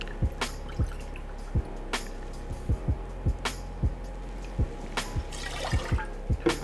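A cup of balsamic vinegar is poured. Quick, glugging drips and splashes fall in an irregular rhythm, each plop distinct and close, continuing throughout.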